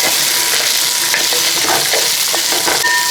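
Beef and small shallots are stir-fried in a hot pan for a Kerala beef fry, giving loud constant sizzling close by, with scraping stirs of a spatula throughout.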